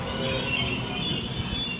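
A Sydney train arriving at a platform at Central station, wheels squealing against the rails in a continuous loud, steady screech over low rumbling, with no voices.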